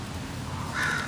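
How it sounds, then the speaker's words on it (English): A crow cawing outdoors, one short harsh caw standing out near the end over a noisy background of wind and ambient rumble. "there's the crow squawking"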